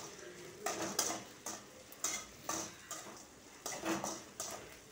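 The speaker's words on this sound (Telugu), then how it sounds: "కరివేపాకు వేసాను, అది కూడా వేసి వేచాలి. సిమ్లో బాగా వేగాలి." Curry leaves frying on a low flame for kandhi pappu pachadi, a quiet, soft crackle broken by repeated bursts of stirring and utensil scraping against the pan.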